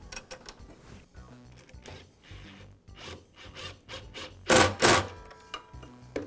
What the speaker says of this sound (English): place the rear of it into the casting, and I'll secure it with the screw